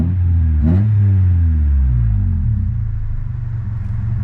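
A Honda Civic EK engine revs up sharply, climbs to a loud, deep rumbling peak, then falls back toward idle, recorded close by without any talk.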